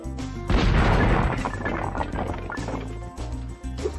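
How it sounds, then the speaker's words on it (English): Explosion in Spyro 2: Ripto's Rage, a sudden loud booming blast after a brief quiet moment, followed by a rumbling, crackling decay with scattered debris-like thuds. "Wow, what an explosion"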